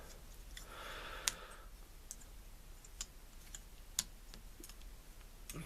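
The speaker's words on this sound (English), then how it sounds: "fold up the little blade thing, rotate the legs out. These will fold down." A Transformers figure, Fansproject Columpio, being handled as its legs rotate and fold, giving a few sharp plastic clicks and ticks from the joints, spaced out over a faint background.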